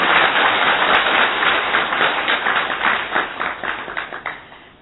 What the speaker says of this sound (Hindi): जोर से ताली बजाए अपने लिए